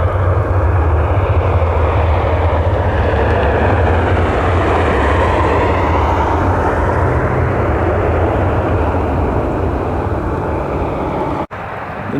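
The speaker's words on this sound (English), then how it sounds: "United 1975. Another Boeing 737." A Boeing 737 airliner comes in on approach with a loud, continuous jet roar that holds strong for about eleven seconds before briefly cutting out.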